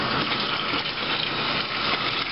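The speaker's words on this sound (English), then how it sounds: "It means we've got to put some more water in." A steady, loud gush of water pours without a break into a borax and hydrogen peroxide mange-treatment solution, a close, continuous rushing with no voices.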